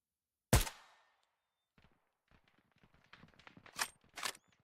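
Gunfire in the military shooter Arma Reforger, one loud sharp shot up close, then quieter scattered noises and two more distinct shots near the end.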